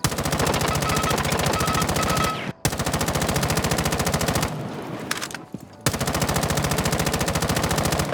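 Sustained automatic gunfire in Rainbow Six Siege, loud and fast with rapid regular shots in long bursts, broken by two short pauses.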